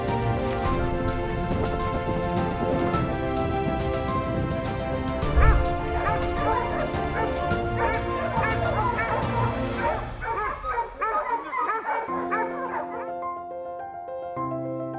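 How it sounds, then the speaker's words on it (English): A dog yelping and whimpering while a crocodile attacks it at the Rana Pratap Sagar Dam on the Chambal River, heard under loud continuous music that ends abruptly near the close. "Crocodile hunts a dog at the Rana Pratap Sagar Dam on the Chambal River."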